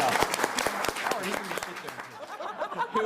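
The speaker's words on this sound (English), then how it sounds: "I want Kevin to walk back into the thunderous applause he deserves." A crowd claps for Kevin Feige at a Captain America: Civil War press event, crisp individual claps up front tapering off, mixed with chuckles and murmured talk.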